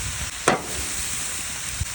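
Butter sizzles against potatoes on a Blackstone griddle, a steady close hiss broken by one sharp scrape or clatter early on and a soft knock near the end, with no talking.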